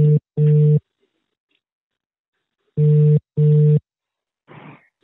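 A telephone ringback tone sounds as two pairs of quick double rings separated by silence. A brief muffled sound follows at the end.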